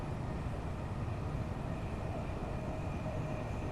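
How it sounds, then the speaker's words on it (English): A train in Train Sim World 5 passes through Burgess Hill Station, giving a continuous low rumble and rattle at an even level throughout, with no talking. "we're passing through Burgess Hill Station"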